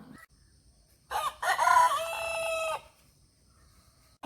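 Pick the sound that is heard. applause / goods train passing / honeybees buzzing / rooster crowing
rooster crowing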